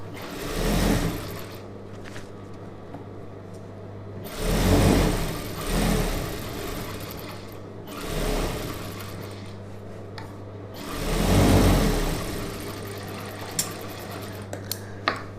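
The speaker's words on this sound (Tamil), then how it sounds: "அப்படியே இதில் ரஃப்பாக ஒரு தையல் ஓரமாக போட்டுடலாம்." A sewing machine stitches a star-neck chudidhar in bursts, its motor whirring up and down through four or five runs of stitching with short pauses between them, close and fairly loud.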